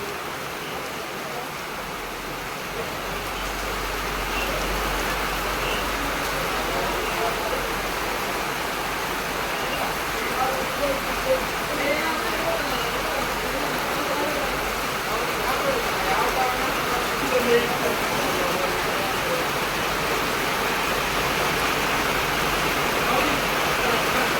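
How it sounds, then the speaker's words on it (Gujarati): Steady rain hisses over a truck as it drives along the highway at a town bypass, a constant dense wash of drops mixed with road and engine rumble for the whole stretch. "નગરમાં જો વરસાદ પડે છે"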